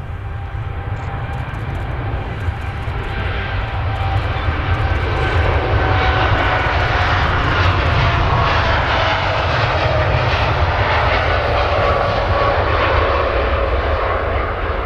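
An airplane at Manchester Airport gives a steady, loud engine roar that runs unbroken from start to end, with no voices over it.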